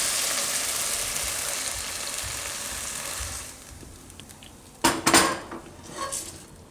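Cooked potatoes being lifted out of a pan for a Gujarati onion-potato curry, with a steady low kitchen hiss, then a few sharp clinks and scrapes of a utensil against the pan, close and fairly loud.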